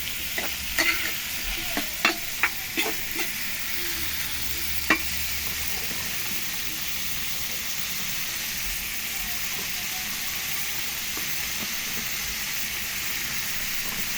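Water spinach and tofu being stirred in a sizzling pan: several sharp utensil scrapes and clacks in the first seconds over a steady continuous sizzle that carries on alone afterward.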